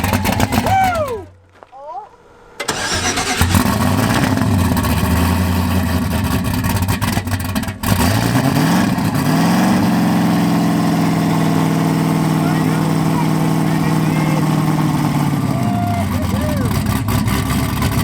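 A drag racing car engine cranks and catches after fuel priming, then settles into a loud, rough, low idle with occasional revs, and people talk over it.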